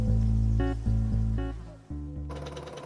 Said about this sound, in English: Now it's time to pin and sew the new hemline into place.